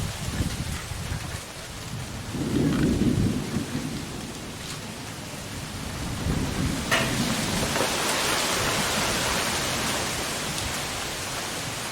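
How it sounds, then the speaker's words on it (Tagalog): Steady rain pours down while thunder rumbles low in the distance, swelling a couple of times before the downpour grows heavier. "ulan na"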